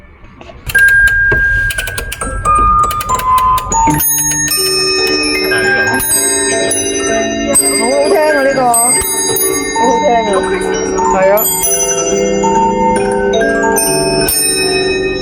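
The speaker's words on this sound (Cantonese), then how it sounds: "咁呢一個咧就有個敲鐘嗰個聲" An antique music box from 1875 plays a bright bell-striking chime: ringing metallic tones and a tinkling melody, near and loud, as people talk over it with admiration.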